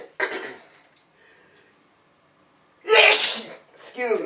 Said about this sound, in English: that's my seasonings make me sneeze like that.